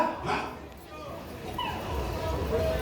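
Dog barking and whimpering in short yips, faint and somewhat distant, heard over background talk.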